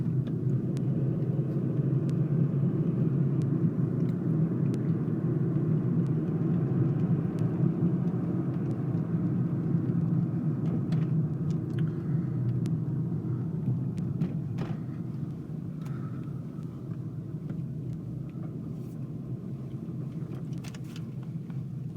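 A car driving out of Red Rocks Amphitheater in Morrison, Colorado, heard from inside as a steady low engine and road rumble that eases slightly toward the end, with faint scattered clicks and no talk.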